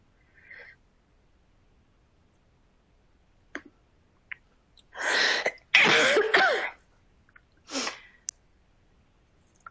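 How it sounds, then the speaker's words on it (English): A person with a cough lets out a few sharp, close bursts clustered near the end, after a long, mostly quiet stretch with faint clicks, and no speech. "I've got a bit of a cough,"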